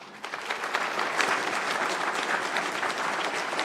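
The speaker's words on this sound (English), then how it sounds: "let's give another round of applause for our inductees for the class of" An engineering award ceremony audience gives a round of applause for the year's inductees, dense and loud clapping that swells quickly and holds steady throughout.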